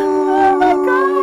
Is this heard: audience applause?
no